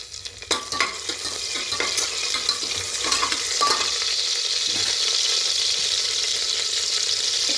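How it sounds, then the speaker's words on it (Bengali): Panch phoron spices, two dried red chillies and two bay leaves dropped into hot oil for a potato curry tempering, sizzling steadily and close, with a few stirring clinks of a spoon against the pan early on. "এবার তেলের মধ্যে দেবো ফোড়নে পাঁচফোড়ন দুটো শুকনো লঙ্কা দেব দুটো তেজপাতা দেবো"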